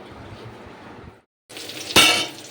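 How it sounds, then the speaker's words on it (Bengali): Pointed gourd (potol) frying in a pan, a soft crackling sizzle that briefly goes quiet, then returns louder with a sharp clink and a surge of spattering. "এইখানে মা এখন ভাজছে পটল"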